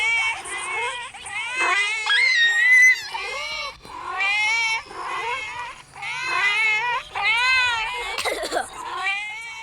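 Several cartoonish cat nextbots in a video game meow and caterwaul continuously and loudly, with overlapping wavering yowls that surge in bursts over about ten seconds.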